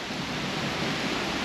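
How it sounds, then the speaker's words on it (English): Heavy rain pours outdoors in Copenhagen as a dense, steady hiss with a low rumbling undertone, loud and unbroken through the short stretch with no voices. "as the rain gets more intense"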